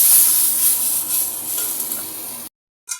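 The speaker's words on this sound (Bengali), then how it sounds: "তো মশলার সঙ্গে আমি আলুটা দিয়ে ভাজা করে নিতেছি ভালোভাবে।" Potatoes fry with ginger-garlic paste, onion paste and spices, giving a steady hissing sizzle for about two and a half seconds before cutting out, followed by a brief burst at the very end.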